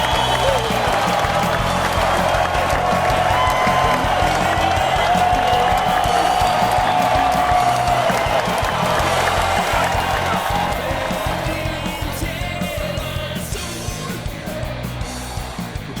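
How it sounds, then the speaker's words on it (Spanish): Dense, sustained applause and cheering from a large crowd, heard as the opening of a segment on the 1928 King Vidor film The Crowd, steady and loud throughout before easing slightly near the end, with no clear speech. "Escuchamos aplauso, griterío,"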